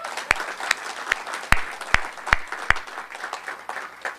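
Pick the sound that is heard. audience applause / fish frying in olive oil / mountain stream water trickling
audience applause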